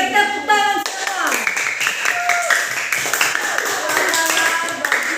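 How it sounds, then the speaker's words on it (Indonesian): A classroom of students claps together in brisk, uneven rounds during a lesson, with a teacher speaking and tonal voices and sounds mixing in over the hand claps. "Oke, tepuk tangan semua."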